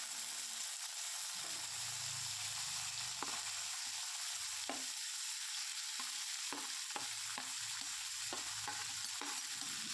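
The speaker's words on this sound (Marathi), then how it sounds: "आता ही गवारी या कढईमध्ये टाकून याला भाजून घ्यायचं आहे" Cluster beans roast in a little oil in a kadhai with a soft, constant sizzle, while a spatula knocks and scrapes against the metal in a quick, irregular rhythm.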